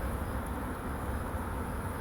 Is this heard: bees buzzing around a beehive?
yes